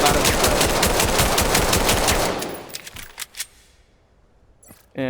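Rapid gunfire rattles from Weapons of Vail, a dense automatic burst lasting about two seconds, then a few spaced single shots and a short final report, loud and close with no talk.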